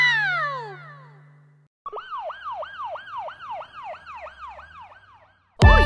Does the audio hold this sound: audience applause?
no